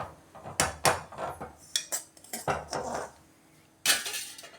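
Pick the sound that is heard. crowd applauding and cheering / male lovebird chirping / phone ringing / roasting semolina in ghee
roasting semolina in ghee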